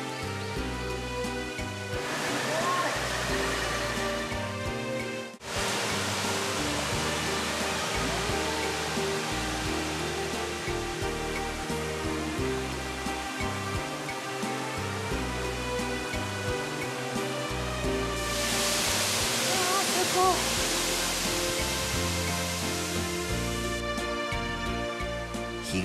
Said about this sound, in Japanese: 宇佐市安治無にある落差85メートルの巨瀑です。